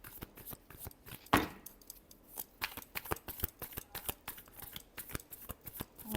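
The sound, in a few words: shuffling cards for a reading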